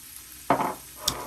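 Turkey sausage and peppers frying in a pan, stirred once in a single scraping burst of sizzle, then a brief sharp clink near the end; close and moderately loud, no talking.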